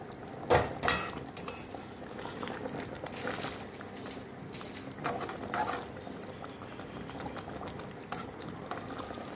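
Fish curry with garam masala and coriander leaves simmering in a pot, a continuous soft bubbling broken by a few sharp clinks of a utensil against the pot, with no talking.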